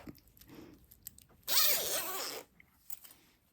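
A zipper pull being slid onto a continuous zipper tape, giving a loud, close, ragged zipping rasp of about a second, with small clicks and handling noises before and after.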